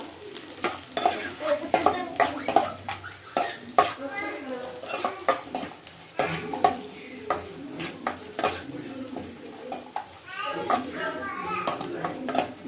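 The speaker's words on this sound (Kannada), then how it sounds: "ಒಂಚೂರು ಫ್ರೈ ಮಾಡ್ಕೊಳ್ಳೋಣ" Capsicum and carrot stir-fry in a pan with loud, close sizzling and repeated rhythmic scrapes and knocks of a spatula against the metal, carrying on throughout with faint voices in the background.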